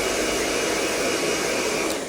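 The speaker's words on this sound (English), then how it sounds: "you would want to use the hairdryer to heat set it in that direction" A hair dryer blowing steadily at full power on a hair topper, loud and close, a constant airy roar with no talking.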